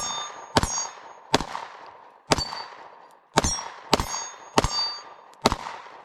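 Bullets striking a steel target at an outdoor shooting range, fired from a red-dot-sighted gun, ring out as seven sharp metallic clangs with lingering ring, spaced roughly a second apart, loud and clear with no talk.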